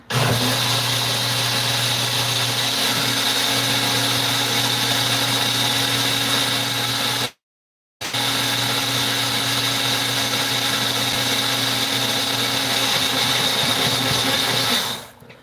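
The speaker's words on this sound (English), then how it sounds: "It has balsamic vinegar, sesame seeds, peanut butter, and let's give it another blend." A blender runs steadily at high speed through a sesame seed and peanut butter dressing with balsamic vinegar, a loud continuous whine that cuts out briefly midway, then restarts and runs on before stopping.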